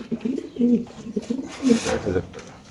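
A racer pigeon in a cage coos in short repeated low throaty bursts, close and clear, with a voice speaking over part of it.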